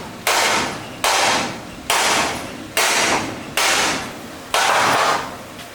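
Six loud, evenly spaced hammer blows on metal while stripping a rusty Ford F-100, each strike close and sharp with a brief ringing decay.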